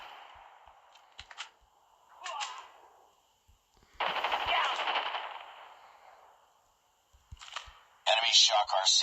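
Gunfire in a first-person shooter video game, heard as short bursts and a longer spell of rapid shooting scattered across the clip amid game sounds.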